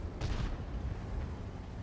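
A single deep cannon boom from an IS-2 tank in World of Tanks, with a sharp onset and a rumbling tail that fades into low background noise.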